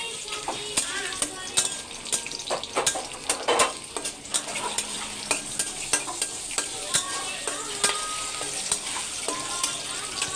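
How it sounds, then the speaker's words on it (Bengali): Onions sizzle steadily in hot oil in a wok while a spoon scrapes and stirs in frequent clattering strokes, loud and close, with no talking. "তো ভালোভাবে নাড়াচাড়া করতে হবে।"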